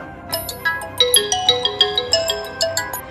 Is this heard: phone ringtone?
yes